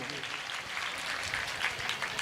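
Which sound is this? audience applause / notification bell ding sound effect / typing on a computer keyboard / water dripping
audience applause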